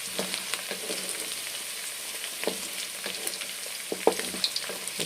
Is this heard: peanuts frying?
yes